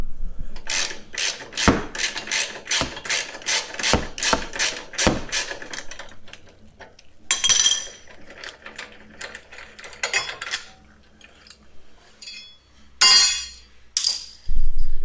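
Ratchet wrench loosening a 12 mm bolt from a bracket in the wheel well of a 5th gen Toyota 4Runner: a run of rapid, evenly spaced ratchet clicks, then scattered metallic clanks and handling noises up close.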